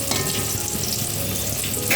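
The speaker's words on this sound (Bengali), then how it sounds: "তো এই যে ফোড়ন দিয়ে দিলাম, দারচিনি, এলাচ, তারপর তোমার জিরা, আর হচ্ছে 2টা শুকনো মরিচ।" Cinnamon, cardamom, cumin and dried chilies fry in hot oil in a pan, giving a steady, close, crackling sizzle that runs unbroken.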